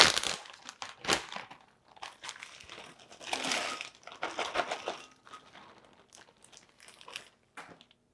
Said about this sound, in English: once it's all coated, you just pour it in a bowl.